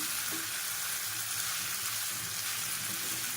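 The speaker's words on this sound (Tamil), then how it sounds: "எல்லாத்தையும் நல்லா கிளறி விட்டுக்கலாம்" Chicken fry being stirred in a hot pan, a steady close sizzle of frying with soft scraping and stirring sounds running throughout, no voices heard.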